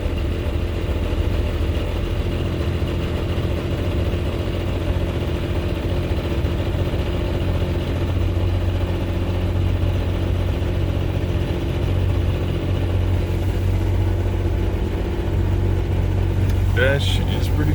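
Toyota FJ60 engine running steadily at idle, a continuous low rumble heard from close by, with talking over it throughout.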